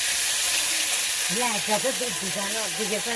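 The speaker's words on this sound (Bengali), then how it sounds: "আদা সুন্দর করে ভাজা হয়ে গেছে" Ginger paste with cumin frying in hot oil gives a constant close hiss and sizzle, with a voice talking over it during the second half.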